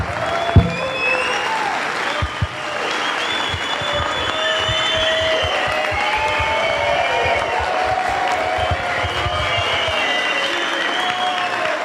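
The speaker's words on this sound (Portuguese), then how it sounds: "Vamos levantar e aplaudir de pé Ciro Gomes." A large crowd at a political event in Brasília gives a standing ovation for Ciro Gomes, sustained loud clapping with some cheering and faint voices mixed in throughout.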